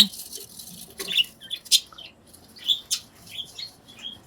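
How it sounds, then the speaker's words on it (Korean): Small birds chirping in a rural yard in a Taebaek mining village, a series of short bright tweets and calls coming in scattered bursts, fairly close and moderately loud over a quiet background with no talk. "이렇게 새들이 자라고 있네요"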